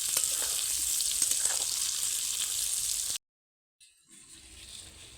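Mango pickle with chili powder and salt sizzling in a pan while being stirred, a bright continuous hiss with faint scraping, broken by a brief silence before a quieter sizzle returns.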